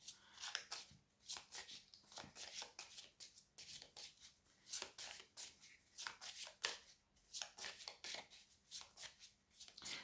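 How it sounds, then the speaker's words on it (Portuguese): Orient Tarot major arcana cards are shuffled by hand in quick repeated riffles and slides, crisp papery flutters close by in a quiet room. "Vamos baralhar ao vivo para poderem ver todo o processo aleatório de tiragem das cartas."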